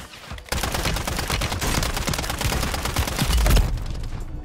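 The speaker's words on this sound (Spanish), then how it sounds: "¿Escopeta de fuego?" Rapid, dense gunfire from the video game Warzone 3, a loud, sustained volley of closely spaced shots with a heavy boom near the end before it cuts off.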